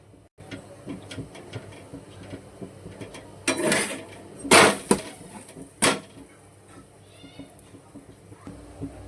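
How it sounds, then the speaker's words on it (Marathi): A lid goes onto a pot of cowpea bean curry with grated coconut, giving a few loud close clanks and knocks over a quiet kitchen background. "याला आता मी झाकण लावून इथे पुढे शिजायला ठेवून देते मैत्रिणी"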